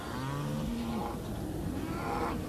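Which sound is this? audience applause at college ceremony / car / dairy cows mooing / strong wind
dairy cows mooing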